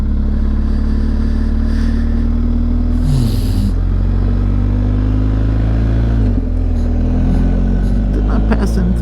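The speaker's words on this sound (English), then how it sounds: "there's a car coming" A car approaches on a road while riders on bicycles are nearby, a loud, sustained engine drone with shifting pitch that swells and changes over several seconds, with voices over it.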